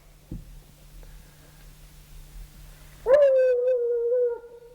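A Treeing Walker Coonhound bays once in a long, drawn-out howl after a brief sharp sound and some quiet, fairly close and loud.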